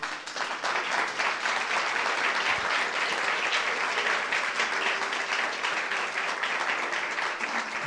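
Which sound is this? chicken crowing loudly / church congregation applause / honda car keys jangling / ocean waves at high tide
church congregation applause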